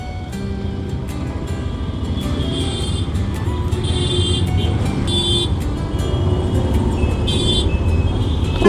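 Continuous road traffic on a large multi-lane road with most lanes blocked and only one left open: a steady, loud rumble of engines with passing vehicles and occasional horn toots, no talking.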